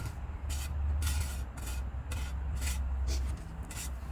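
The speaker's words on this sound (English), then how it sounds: "I'm just smoothing it out. Make sure nickels and crannies is good." Wet cement smoothed in a garden stone mold, heard as a rhythmic scraping rub, about six strokes back and forth at an even pace, close over a low steady hum.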